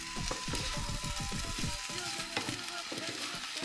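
Scrambled eggs with tomatoes and herbs sizzling in a frying pan, a steady close crackle with rhythmic scraping as a utensil stirs the mixture.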